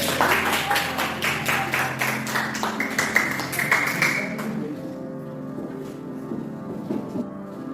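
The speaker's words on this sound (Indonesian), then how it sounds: "mari kita beri tepuk tangan" A classroom of students applauds with brisk, rhythmic clapping for about four seconds, then the claps thin out as a faint background tone carries on.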